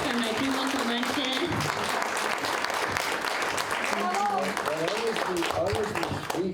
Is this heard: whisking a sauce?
no